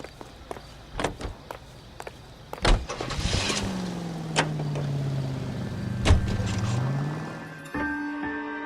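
Car in L.A. Noire, with footsteps and a door shutting before the engine starts and a steady motor hum builds and shifts as it pulls away, fairly close and with no talk.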